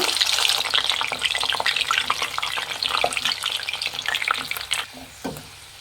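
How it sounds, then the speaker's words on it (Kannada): Capsicum deep frying in hot oil for a cauliflower biryani, a steady dense crackling sizzle that fills the scene up close, easing off slightly near the end with a few louder pops. "ಒಂದು ಸ್ವಲ್ಪ ಡೀಪ್ ಫ್ರೈ ಮಾಡ್ಕೊಬೇಕಾಗುತ್ತೆ ಕ್ಯಾಪ್ಸಿಕಮ್ನ"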